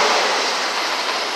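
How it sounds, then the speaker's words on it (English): Union Pacific 1420, a port local locomotive in Sacramento, shoves its train in reverse, giving a steady, loud broadband rumble and rail roar with no pauses or voices. "got a West Sac Port Loco going into reverse"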